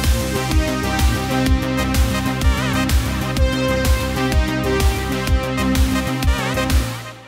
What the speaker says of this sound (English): that is a trance pad, or kind of a trance brass that sounds like this